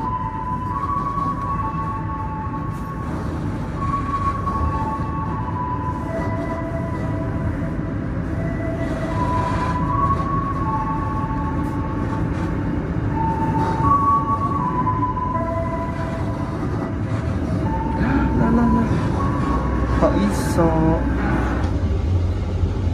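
A Parahyangan passenger train pulling out of Cimahi station, with a continuous rolling rumble and rail noise, repeated tonal horn or signal tones, and a few clanks and squeals, heard from on board.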